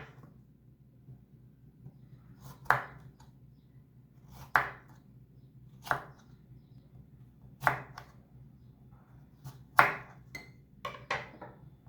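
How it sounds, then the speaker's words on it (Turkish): A knife slices zucchini into rings on a cutting board, making about eight sharp, distinct chops spaced irregularly a second or two apart. The cuts are close and crisp against a quiet background with no talking. "Şu şekilde kabaklarımı kestikten sonra halkalar halinde doğruyorum."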